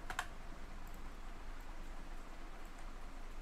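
Text is typed on a computer keyboard as a few faint, sparse clicks over steady background hiss, with no talking.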